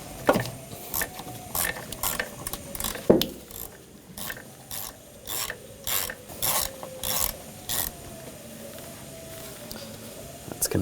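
Hand ratchet with a 10mm socket loosening a bolt on a 2004-2012 Chevrolet Colorado 3.7L engine, a series of crisp rhythmic clicking strokes in short bursts, close and alone.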